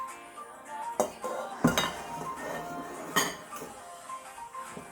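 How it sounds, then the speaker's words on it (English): Melted butter being put into a big bowl, with several clinks and knocks of utensils against the bowl spread out over a quiet kitchen background. "I'm going to put it here in a big bowl."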